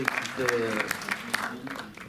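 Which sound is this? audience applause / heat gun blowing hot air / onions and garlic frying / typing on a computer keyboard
audience applause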